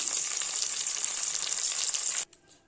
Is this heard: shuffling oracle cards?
no